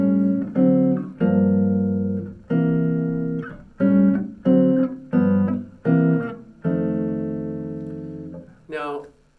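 Jazz chords strummed on guitar over a 12-bar blues progression, each chord struck cleanly and left to ring in a steady rhythm, with no voices over the playing.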